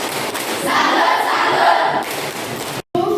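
Students in a Bahasa Indonesia class at SMPN 2 Wae Rii perform a tepuk salut, a rhythmic clapping chant with voices shouting together in a burst, loud and close, ending abruptly before a brief trailing sound.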